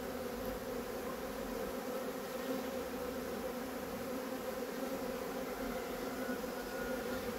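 A freshly hived honeybee swarm with two young queens gives off a steady, continuous buzzing drone, close and even throughout, with no voices.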